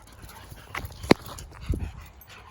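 Pack dogs squabble briefly nearby, with a sharp yelp and some whimpering and panting in a short, quiet burst.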